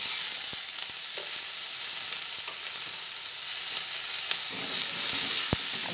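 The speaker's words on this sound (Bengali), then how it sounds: "আলুটা কিছুটা ভেজে নেবো।" Potatoes sizzle steadily in a pan as they start to fry for a potato, bean and eggplant dish, with a constant broadband crackle and a few sharp stirring clicks close by.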